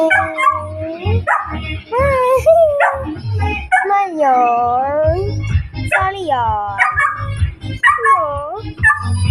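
A dog barks and yips in short bursts close by, while people talk over and between the barks.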